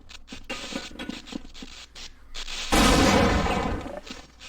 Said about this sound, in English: You saw the light from that explosion just through that cement wall